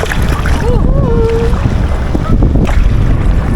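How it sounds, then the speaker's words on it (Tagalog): Strong wind buffets the microphone over a boat's engine and rushing water on an island-hopping tour in El Nido, Palawan, with a voice briefly calling out in the gusts. "Grabe yung lakas ng hangin"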